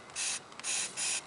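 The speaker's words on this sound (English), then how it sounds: "after you spray all these chains here" Three quick bursts of cleaner sprayed from an aerosol can onto a motorcycle chain, each a short, close hiss separated by brief pauses.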